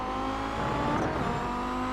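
Race car in a racing video game, a sports sedan modeled on a Nissan Silvia fitted with a V8, roaring steadily at close range with a sustained loud engine drone and brief tire squeal, no talk.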